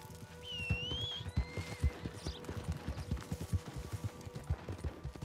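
Horse hooves clip-clop steadily in Red Dead Online, a rapid run of close hoofbeats, with a brief horse whinny near the start over a faint outdoor ambience.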